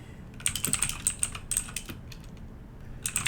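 Keys on a computer keyboard clatter in quick, uneven bursts as code comments are typed, close and clear with brief pauses between runs of keystrokes and no talking.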